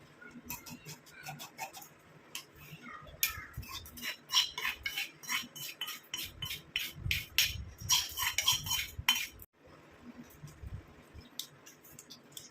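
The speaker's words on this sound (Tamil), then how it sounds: "நல்லா இந்த மாதிரி ப்ரெஸ் பண்ணி விட்டுருங்க நல்லா வடிஞ்சிடும்" A spoon presses and strains gooseberry (amla) hair oil, turned black, through a strainer, giving close, irregular metallic clinks and scrapes in uneven bursts, with a brief pause near the end.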